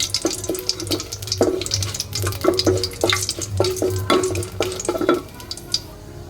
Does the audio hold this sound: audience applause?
no